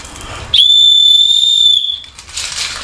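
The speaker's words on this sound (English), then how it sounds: "So this is an emergency whistle." A loud, shrill blast from a handheld emergency whistle, a single steady piercing tone held for about a second and a half, then ambient noise.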